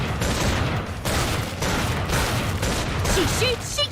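Dense, continuous gunfire from the zombie-shooter video game Killing Floor 2, loud rapid bursts rolling through the whole stretch with brief gaps, a few higher electronic tones near the end.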